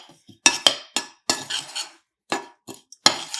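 Dry biscotti ingredients, including a teaspoon of baking powder and baking soda, are mixed in a bowl, producing a series of sharp utensil clinks and scraping strokes in irregular bursts, close and fairly loud, with no talking.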